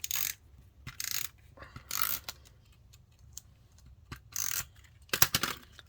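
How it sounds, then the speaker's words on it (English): Double-sided tape pulled from its dispenser for a reading journal layout, several short rasping tears and clicking ratchet-like bursts separated by pauses, close and fairly quiet, with no speech. "I just used my double-sided tape for this."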